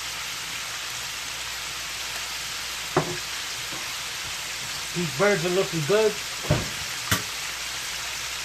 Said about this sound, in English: they're still frying a little bit hard